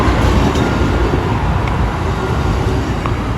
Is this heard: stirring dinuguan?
no